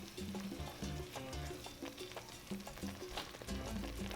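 A blended carrot mixture is stirred into a cooking pot for cabbage stew, with a soft steady sizzle and frying crackle under quiet, irregular scraping and stirring, no voices.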